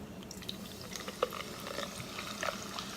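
Clearly Canadian Mountain Blackberry soda pours into a frosty mug, a faint, close, fizzy trickle with small drips and bubbling carbonation crackling softly throughout.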